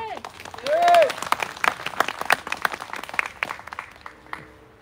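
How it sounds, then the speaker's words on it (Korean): A crowd at a Korean labor activist's fourteenth memorial ceremony claps, scattered hand claps rising and then thinning out, following a brief bit of voice at the start. "한 분 한 분 제가 소개할 때마다 아낌없는 박수, 큰 박수 부탁드리겠습니다."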